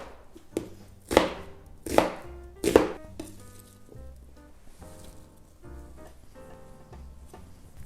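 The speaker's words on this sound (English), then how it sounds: "Let's cut them into big bite-sized pieces" A knife cuts red cabbage into big bite-sized pieces on a board: three loud, crisp chops in quick succession, followed by softer, quieter cutting and crunching.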